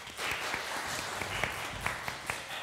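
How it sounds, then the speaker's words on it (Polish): Sustained applause follows a performance by the Szczecin Philharmonic wind quintet, with many hands clapping at moderate distance and a few louder single claps. "Cały czas oklaski!"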